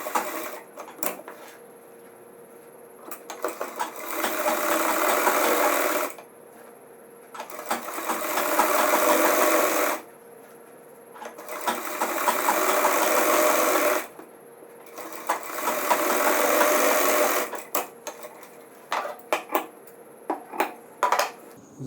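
A sewing machine runs in four steady bursts of several seconds each, stitching a button-tape belt onto gents' pyjama trousers, close and even-paced with short quiet gaps of handling between runs.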